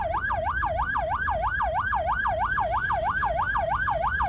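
An ambulance siren wails in a steady, rapid up-and-down pattern, loud and close, with low traffic rumble beneath, in a traffic jam at Gulistan.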